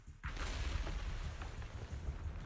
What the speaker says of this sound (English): several explosions erupt, followed by tremors in the ground, signaling the rapid approach of numerous Ethereals